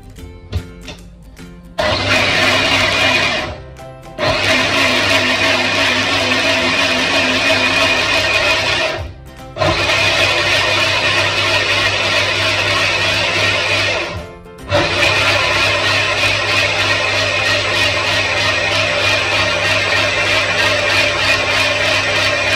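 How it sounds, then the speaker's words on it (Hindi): A blender grinds mango, sugar and milk into a milkshake, a loud, close, continuous motor whir that runs in three long bursts separated by brief pauses. "ग्राइंड कर लेती हूँ।"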